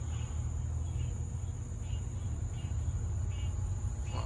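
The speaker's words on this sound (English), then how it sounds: "There's frogs out here. I hear them." Faint, repeating chirps of frogs pulse over a steady low rumble outdoors near a pool at night, calling at regular intervals throughout.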